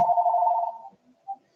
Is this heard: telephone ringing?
yes